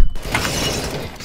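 A flashbang grenade detonates in the video game CS:GO on the Nuke map, a loud ringing burst that fills the whole clip, with a sustained high whine and noisy crackle.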